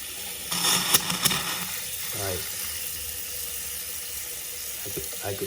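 Warm water running from a tap in a vacation home whose water had been shut off for two weeks, a steady faint hiss and flow with a couple of louder bursts and clunks near the start.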